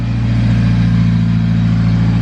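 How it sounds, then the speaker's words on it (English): A Mitsubishi Eclipse engine runs at a high idle, giving a steady, close, even hum with no change in pitch and no voices. "It's still idling really high"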